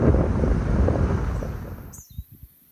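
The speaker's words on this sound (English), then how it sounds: "Regular day on the prairie, super freaking windy." Strong prairie wind buffets the microphone in loud rumbling gusts that ease off after a couple of seconds, leaving scattered thumps and a faint high chirp.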